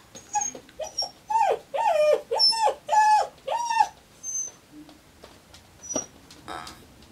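A puppy whimpers in a series of high, wavering whines, about six in quick succession, then falls quiet with a few softer squeaks near the end.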